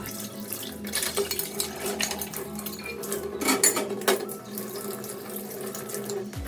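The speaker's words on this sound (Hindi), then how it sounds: "कुछ बर्तन थे तो मैं सोची धो ही लेती हूँ" Utensils washed by hand at a home tap with a weak trickle of water: steel pots, plates and cutlery clink and scrape against each other close up, over a continuous run of splashing water.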